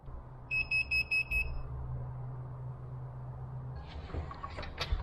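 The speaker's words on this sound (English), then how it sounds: "So this just beeped," A smart garage door opener controller (Beam Up IG221) gives four short, evenly spaced high-pitched electronic beeps near the start, clear above a steady low room hum, followed by faint handling noises.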